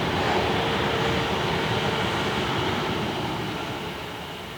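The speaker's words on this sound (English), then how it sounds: "wait for that train to go away" A train rumbles past a fishery lake steadily, a broad continuous roar that fades slightly toward the end, with no voices.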